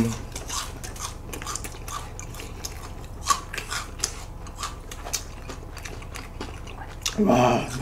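Crispy fried shrimp is bitten and chewed close to the mouth, with repeated crunchy bites in an irregular rhythm, followed by a louder burst near the end.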